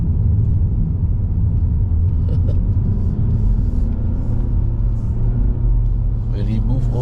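A 2.0L Mazda 3 sedan climbs the Genting uphill road in manual third gear, its engine a loud, steady low drone with road rumble filling the cabin throughout.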